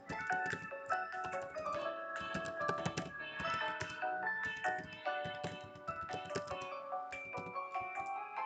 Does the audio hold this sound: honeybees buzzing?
no